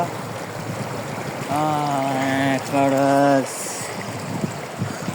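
Stream water rushes as a steady broadband wash around a bicycle rider who has ridden into the streambed, with a loud voice calling out for about two seconds over the flow.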